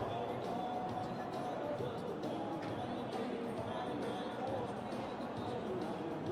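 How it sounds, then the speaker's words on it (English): Big crowd packed to capacity in a basketball arena in Inverness before tip-off, a steady dense murmur of chatter and hubbub filling the hall throughout. "As you can see, a nice big crowd here in Inverness."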